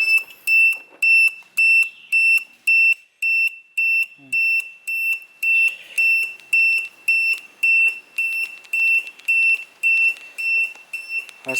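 A motorcycle smart key security alarm beeps in a fast, regular series of loud, shrill electronic tones, each pulse evenly spaced and repeating without a break, close to the listener.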